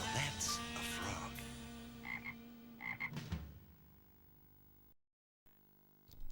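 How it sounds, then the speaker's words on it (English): A frog croaks repeatedly from an old UK VHS tape, loud burpy calls in the first three seconds over faint tape hiss, then a brief dropout of silence. "Now that's a frog."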